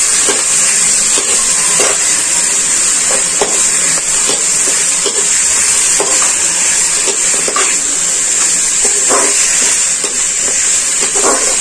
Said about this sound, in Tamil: இது எல்லாமே ஒன்றும் போல சேர்ந்து நல்லா கலரி விடணும். இதெல்லாம் நல்லா வதங்கி வரணும்.